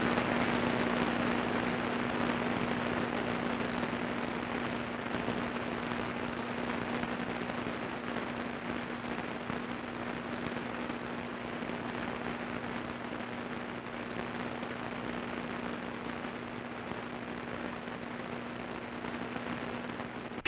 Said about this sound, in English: that noise, that kind of rushing noise you hear when the band is opening